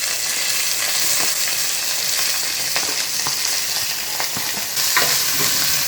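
Salted onions fry in a pan with curry leaves, a loud continuous sizzle broken by repeated spatula scrapes and stirs.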